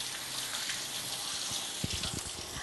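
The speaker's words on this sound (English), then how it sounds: "I gotta rinse my hands off." Tap water runs steadily in a kitchen sink while hands are rinsed beneath it, a soft continuous gush broken by a few brief splashes and knocks near the end.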